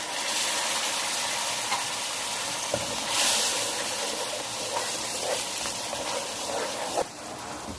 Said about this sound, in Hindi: अब इसमें ना मैं थोड़ा सा ये गर्म पानी डाल रही हूँ।